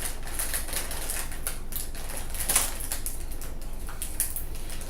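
A plastic cereal bag of French Toast Crunch is pulled open, giving dense, continuous crinkling and rustling close by, with a few sharper tearing peaks.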